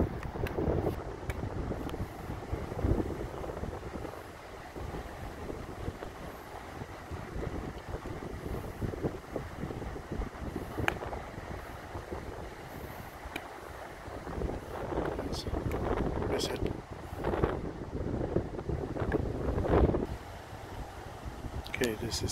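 Strong wind buffets the microphone on a golf course during a junior golf tournament, producing loud, irregular gusting rumble throughout with no clear pauses.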